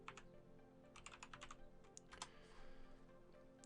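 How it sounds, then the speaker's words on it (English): Fingers type a short word on a computer keyboard at a quiet desk, giving quick clusters of faint, light key clicks with a short pause between bursts, then a single sharper tap at the end. "So if I type in varnish"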